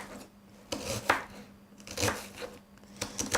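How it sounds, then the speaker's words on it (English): A knife chops through an onion held in a bridge grip on a cutting board, several sharp, close cuts at an uneven pace with quiet pauses between them. "the smaller chops that you do, the finer the pieces of onion will be"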